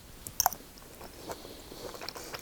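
Tempeh bacon with green beans and kale is bitten and chewed close up, a couple of crisp crunches followed by softer, quieter chewing sounds.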